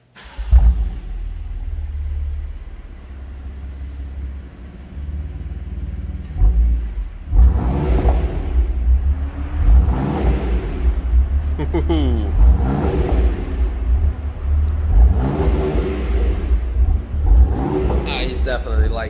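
A BMW M4 fitted with a new Milltek exhaust fires up and settles into a deep, loud, close idle rumble, followed by several rising revs.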